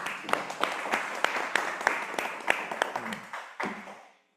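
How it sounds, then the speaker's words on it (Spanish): A lecture audience applauds a speaker's introduction with scattered, distinct claps that swell briefly, then taper off and fade out toward the end. "recibamos por favor con un fuerte aplauso"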